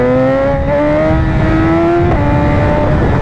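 A BMW S1000RR sport motorcycle accelerates hard in second gear, its engine note rising in a loud, close, continuous whine with a brief shift-like blip near the two-second mark.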